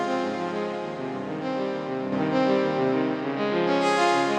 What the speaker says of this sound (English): Added a stereo panning effect and some reverb.